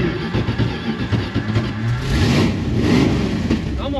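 A 1970 Dodge Coronet 500 that hasn't run in years cranks and revs, its engine a rough, continuous mid-range roar that swells louder toward the end, with a voice faintly mixed in.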